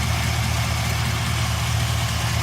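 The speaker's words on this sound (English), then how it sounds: "The truck is running." Truck engine idling with its fuel relay pump pulled, a steady low droning rumble with constant loudness, close and alone with no talk over it.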